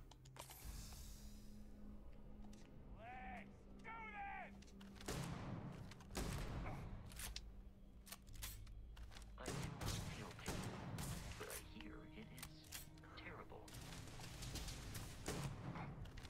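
Gunfire in Starfield comes as sharp, repeated shots and thuds in scattered bursts, moderately close, mixed with people talking and other game sounds.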